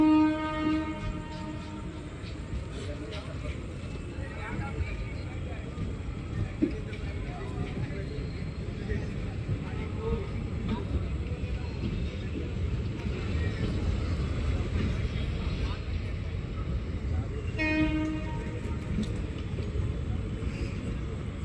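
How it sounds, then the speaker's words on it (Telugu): The Krishna Express, hauled by a high-pantograph electric locomotive, rumbles steadily into a station on the Adilabad–Secunderabad route, with horn blasts near the start and again later over continuous rail noise. "From Adilabad to Tirupati Krishna Express has arrived"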